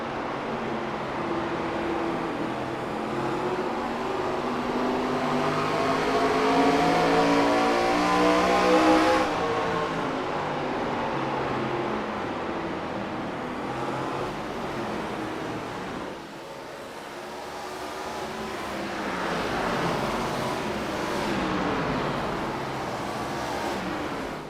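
Race car engines in iRacing during an ACRA East Series race at IRP rev and surge through rising and falling gear sweeps, staying loud and continuous with an overlapping roar as several cars pass.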